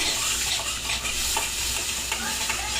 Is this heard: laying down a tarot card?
no